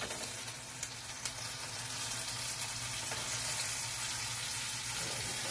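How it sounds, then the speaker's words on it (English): Sausages fry in a pan at home, giving a steady, close crackling sizzle that holds through the whole stretch and grows slightly fuller toward the end, with no voices. "Time to turn our sausage."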